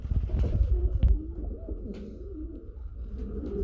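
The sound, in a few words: white shoking pigeon cooing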